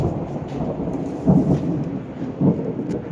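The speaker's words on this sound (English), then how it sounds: "It's just thunder and lightning." Loud rolling thunder in a lightning storm with no rain, two heavy low rumbles swelling over a steady dull background roar.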